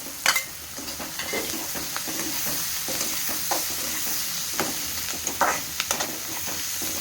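Curry leaves and green chillies crackle and sizzle in hot oil, a loud continuous hiss with scattered pops and a few spoon scrapes against the pan, close by with no voices.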